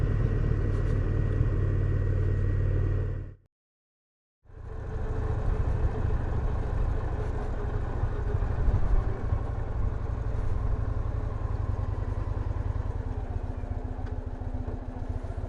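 A Victory Vision motorcycle cruises along a scenic road with a steady low engine rumble and road noise that cuts out for about a second, then resumes unchanged; no voices.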